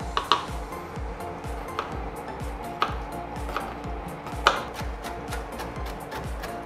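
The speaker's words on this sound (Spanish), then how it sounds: "Y ahora, con los chiles, ¿qué vamos a hacer? Vamos a picarlos finamente." A knife chops habanero chiles finely on a cutting board for cochinita pibil, a quick, steady run of close, crisp taps with a few louder knocks, heard alone.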